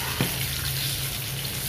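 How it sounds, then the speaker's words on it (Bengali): Pomfret fish frying in a pan, a steady close sizzle of hot oil with a brief soft knock near the start, no voices. "মাছগুলি এক এক সাইড ভাজা হয়ে গেছে"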